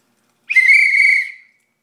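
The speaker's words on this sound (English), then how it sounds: "Whistle can easily be heard from 600 meters away." A single sharp, high-pitched whistle blast rings out for about a second, loud and clear against silence.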